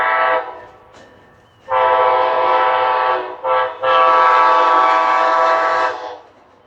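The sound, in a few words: Amtrak train passing and honking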